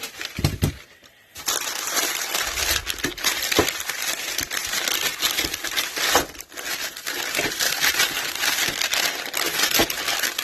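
Packaging being unwrapped from heavy-grade steel Super Duty dash brackets, with close, continuous crinkling and crumpling of wrap, a short quiet gap near the start, no talk.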